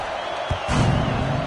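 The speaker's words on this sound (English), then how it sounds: "this crowd is buzzing after that last score" Football stadium crowd after a touchdown run, a broad steady roar of many voices swelling slightly louder midway, with a sharp thump partway through.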